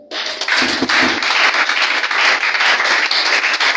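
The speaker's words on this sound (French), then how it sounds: "Acclame Jésus" A church congregation claps and cheers in praise of Jesus, with loud bursts of applause that stay strong throughout, mixed with scattered shouts from the crowd.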